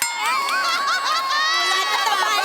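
A studio audience at a Marathi comedy show cheers loudly, with high whoops and shouts layered over a continuous crowd roar that lasts throughout.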